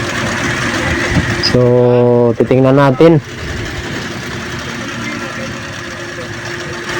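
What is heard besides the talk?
multi-cab engine idling roughly, shaking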